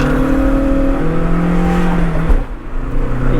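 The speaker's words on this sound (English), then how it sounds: "Into 3rd gear, into the mid-range, into the peak of the power band and the torque band, and there it pulls relentlessly" A Volkswagen Polo GT TDI diesel pulls hard in third gear, its engine note rising steadily through the mid-range from inside the cabin, loud and continuous with a slight dip partway through.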